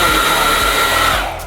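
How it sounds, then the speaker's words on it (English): A blow dryer blowing into an eyelash curler to heat it, a loud steady whirring rush up close that drops in level just before it cuts off. "put the blow dryer in it for 2 seconds."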